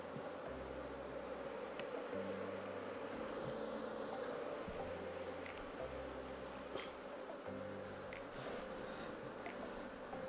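Honey bees buzz steadily from an opened beehive, a dense, continuous close-up drone of many insects, with faint knocks and shifts of the frames underneath.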